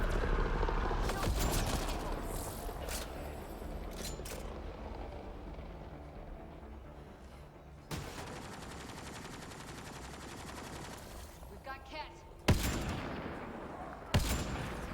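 Bursts of gunfire in the video game Mass Effect: Andromeda crackle throughout, with sharp louder shots near the end over a dense, rumbling battlefield din.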